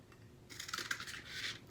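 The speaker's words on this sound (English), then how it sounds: "Using scissors." Scissors cut through cardboard in a short burst of crisp snipping and scraping, close and quiet, after a moment of near silence.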